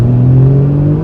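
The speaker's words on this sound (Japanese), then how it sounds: "やっぱり自然吸気の水平対向6気筒は貴重ですよね" Naturally aspirated flat-six engine of a Porsche 981 Cayman revving loud and close, a smooth steady drone with strong low tones rising slightly in pitch over a brief moment.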